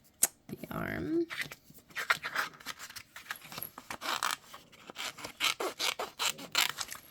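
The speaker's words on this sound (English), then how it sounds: "I have a hard time controlling such a large piece of paper. So I like to cut it down as much as I can." Scissors cutting out a paper clown figure for a dark circus craft, with repeated close snips and rasping paper rubs in an irregular rhythm, a brief crinkle of paper near the start.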